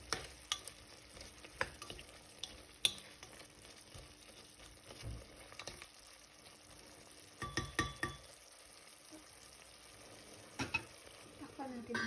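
A spoon stirring pork soup with parsley and seasoning cubes in a pot, heard as scattered soft scrapes and clinks with a faint simmer underneath, fairly quiet and close.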